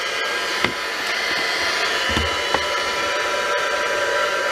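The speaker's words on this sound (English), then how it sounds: "today I have brought my heat tool out to try and dry the glue a bit" A heat tool blows steadily to dry glue on a craft project, a continuous airy whoosh throughout with a couple of faint knocks and clicks, no talking.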